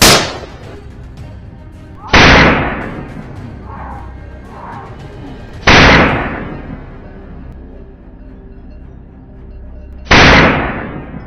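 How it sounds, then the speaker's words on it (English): Three loud, sharp rifle gunshots spaced a few seconds apart during a wild boar hunt in a field, each with a booming echo that decays slowly into the open air. "A series of gunshots echoed."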